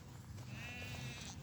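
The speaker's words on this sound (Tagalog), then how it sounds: "parang kambing yung tunog ng sheep" A single sheep bleats once, a wavering nasal cry resembling a goat, heard faintly at a distance over quiet background noise.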